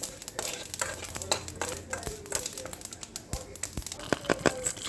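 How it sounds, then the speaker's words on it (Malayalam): Mustard seeds with fenugreek fry in a pan as tempering for a star fruit curry, giving a light, uneven crackle and scattered clinks and rattles close by, fairly quiet, with a voice faintly in the background. "അതിനകത്ത് ഉലുവ ഇവിടെ ചേർത്താണ് ഞാൻ കടുവ വറക്കുന്നത്"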